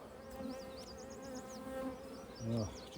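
A sparse colony of bees buzzes inside an opened control hive, a soft continuous drone with individual insects whining past nearby.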